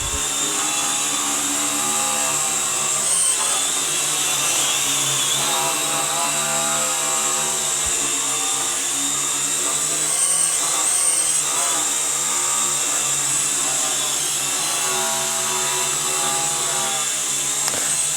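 An Air Hogs Star Wars speeder bike drone flies nearby with a steady, high-pitched whine of small buzzing rotors. The tone holds continuously at fairly even loudness throughout, with slight pitch wobbles as it maneuvers.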